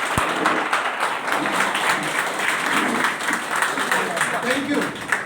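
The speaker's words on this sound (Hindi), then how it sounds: "आप उनके लिए सारे लोग मिलकर एक जोरदार ताली दें" Audience at an indoor meeting claps loudly and continuously, a dense, steady burst of applause throughout.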